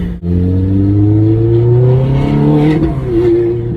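A Ferrari 430 accelerates through West Hollywood streets, its engine note climbing loud and close from inside the car, with a brief dip at a gear change before the revs climb again.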